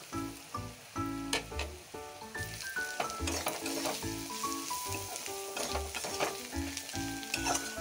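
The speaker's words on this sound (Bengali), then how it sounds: "সব গুঁড়ো মশলা একসাথে দিয়ে দেব।" Ground spices (cumin-coriander, turmeric and chilli powder, with salt) fry together with onion in a pan for a Bombay duck curry, giving a close, crackling sizzle punctuated by quick stirring scrapes throughout.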